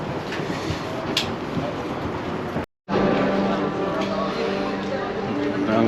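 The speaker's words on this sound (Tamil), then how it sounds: "இப்போ ரெயின் வருது நாங்கள் இதிலேருந்து ஏறணும்" A Paris metro train arrives at a station, rumbling and roaring steadily nearby, with a brief sharp break partway through; the noise stays loud from start to finish.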